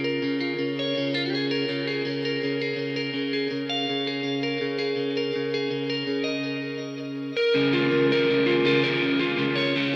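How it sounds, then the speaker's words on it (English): A sustained electric guitar melody drenched in delay and reverb, notes echoing and overlapping, with a brighter, denser change near the end. "this is the melody guitar going into some delay"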